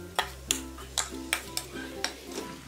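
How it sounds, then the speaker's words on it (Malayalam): A spoon stirs a ground paste of dates and walnuts into banana and carrot sautéing in a pan for a sugar-free payasam, sounding as about seven sharp, evenly spaced scrapes and clacks over a low steady hum. "ഇനി ഈ അരച്ചത് നമുക്ക് ഈ വഴറ്റിക്കൊണ്ടിരിക്കുന്ന ഏത്തപ്പഴത്തിൻ്റെയും ക്യാരറ്റിൻ്റെയും കുട്ടിലേക്ക് ഇട്ടിട്ട് ഇളക്കി കൊടുക്കാം"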